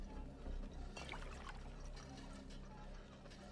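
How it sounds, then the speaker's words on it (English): Water pours into a row of empty bottles, among them beer bottles and a white bottle, in Fallout 4, a steady trickling fill under a low hum. "So let's go ahead and fill them up."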